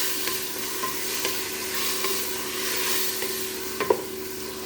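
Camel fat sizzles steadily in a pan as the base for magloba, a continuous close frying hiss with a few faint clinks near the end and no talking.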